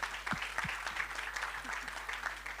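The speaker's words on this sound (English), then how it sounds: "So please, give another round of applause to StepX." Steady applause fills the space at a tech expo in Armenia, a crowd clapping continuously throughout after a startup presentation.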